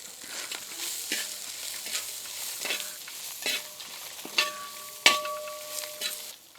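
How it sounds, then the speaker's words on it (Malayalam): Grated coconut and curry leaves roast in a pan for Chettinad chicken curry, with a steady sizzle and repeated scraping, clinking strokes of a spoon stirring against the pan, close and fairly loud. "കുറച്ച് കറിവേപ്പില ഇതെല്ലാം കൂടി ഇട്ടൊന്ന് വറുത്തെടുക്കണം നന്നായിട്ട്"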